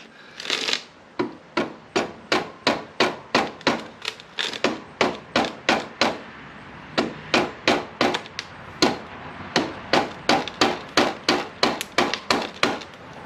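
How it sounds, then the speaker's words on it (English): Rubber mallet tapping a Harley-Davidson Softail front wheel into place during installation: a long series of about thirty sharp, evenly spaced thuds, close and loud, with brief pauses between groups and no talking. "Just going to get a rubber mallet to give it a little love tap."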